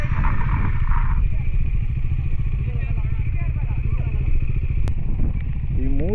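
Motorcycles, among them a Benelli TRK 502, come up a steep off-road hill climb near Kote Betta peak, engines loud and close with a steady throbbing growl and some clatter, and voices mixed in.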